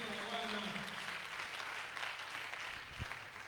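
Church congregation clapping during a French worship service, a steady moderate wash of applause that carries on throughout, with a brief thump near the end.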